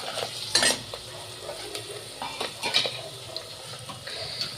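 Spices for a veg pulao cook and are stirred in a pan, with a soft sizzle under intermittent sharp scraping and clinking stirs close by, and no talking.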